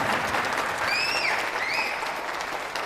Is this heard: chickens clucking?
no